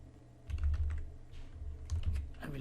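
Text is typed on a computer keyboard in two short bursts of quick, light key clicks, close and fairly quiet, separated by a brief pause.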